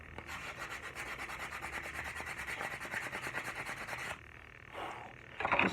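A tomahawk handle being sanded by hand with 120 grit sandpaper: steady rapid back-and-forth rubbing strokes, close but fairly quiet, that stop near the end, leaving a few faint scrapes.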